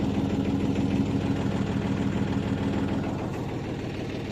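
A farm tractor hitched to a trolley idles nearby with a continuous low, throbbing rumble and a slight knocking pulse, steady throughout and easing a little toward the end, with no talking.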